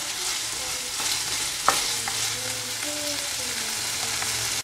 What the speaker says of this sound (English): Chop it nicely until this okra are cooked well and get brown color also.